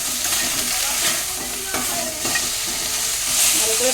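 Masala with salt and turmeric powder stir-fried in a pan, giving a steady close sizzle with scraping stirs running throughout, loud and continuous.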